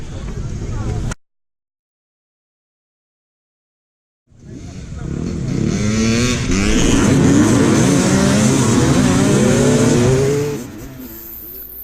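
A Yamaha YZ250 two-stroke dirt bike engine is heard up close. It sounds briefly, cuts to silence for about three seconds, then comes back loud and revs hard with rising and falling pitch before dropping lower at the end.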